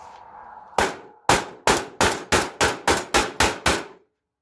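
Ten sharp hammer strikes on a Peugeot XD3 diesel engine, first two spaced apart then a steady rapid series, loud and close with metallic ring, after a faint brief murmur at the start.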